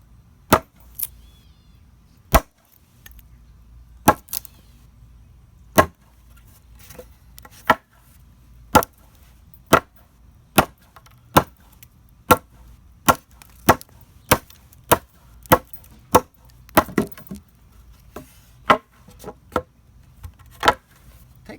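A Camillus Carnivore X titanium machete chops into a 2x4, giving sharp, distinct wooden thwacks in a steady rhythm of about one per second, each strike loud and clean against a quiet background.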